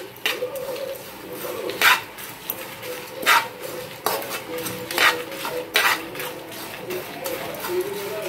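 A spoon stirs and scrapes coconut, fennel and cinnamon as they roast in a hot pan off the gas, with irregular metallic clinks and scrapes against a quiet hiss.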